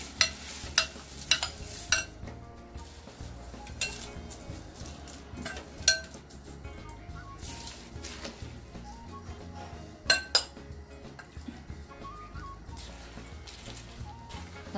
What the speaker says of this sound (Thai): จากนั้นเราก็จะตั้งหม้อน้ำนะคะใช้ไฟปานกลางเราก็จะใส่พริกลงไปเลย